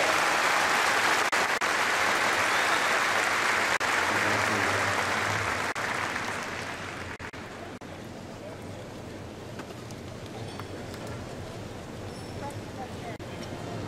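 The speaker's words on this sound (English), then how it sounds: "Let's give another round of applause for our appreciation for our past leadership." Large audience applause at the opening ceremony of the 94th Lions Clubs International Convention in Seattle, a broad wash of clapping that fades after about six seconds into quieter room noise.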